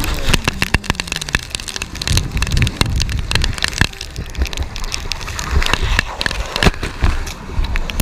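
Heavy rain beats on a car while it is driven fast, a dense steady hiss and patter under constant road and engine rumble, with sharp splashy spikes throughout.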